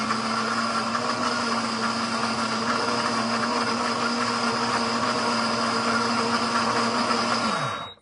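A blender grinds honey roasted peanuts into peanut butter with a loud, steady whirring motor that runs for about eight seconds, then winds down and stops at the end.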